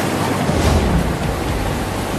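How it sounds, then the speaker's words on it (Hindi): Heavy rain in a village during a storm: a dense, steady roar of falling water, loud and continuous, with no voices. "देखो कितनी तेज बारिश हो रही है"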